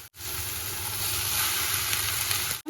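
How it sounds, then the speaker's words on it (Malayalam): Cooked rice tipped into hot tomato masala and stirred in a pan, a steady close sizzle and frying hiss running throughout with brief dips at the start and end. "അപ്പോൾ നമുക്കിനി ആ റൈസ് ഇതിലേക്ക് ആഡ് ചെയ്ത് കൊടുക്കാം"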